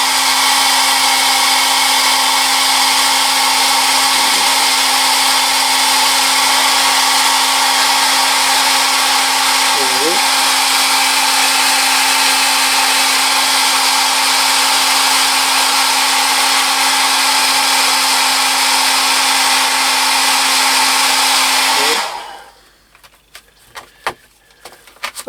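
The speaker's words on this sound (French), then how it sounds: "Je vais mettre un petit coup de sèche-cheveux." A hair dryer blows a steady, loud, continuous whoosh over freshly painted wheel rims for about twenty seconds, then cuts off abruptly, leaving faint clicks and handling noises.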